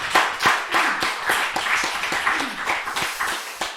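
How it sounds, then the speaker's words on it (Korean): Congregation applauding during a Korean Sunday church service after a hymn, a dense burst of many hands clapping close by with irregular sharp claps, steady for several seconds. "우리 다시 한번 박수로 하나님 앞에 영광 돌리겠습니다"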